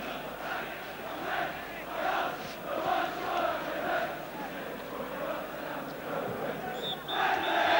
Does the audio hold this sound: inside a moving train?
no